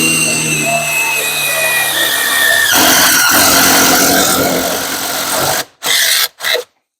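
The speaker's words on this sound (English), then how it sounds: "I like to do this using a step bit" A step bit drills a hole in metal during a Power PRO winch kit install on a BTR, giving a steady high-pitched whining squeal that runs loud and continuous for several seconds, then cuts out in a few short, abrupt bursts at the end.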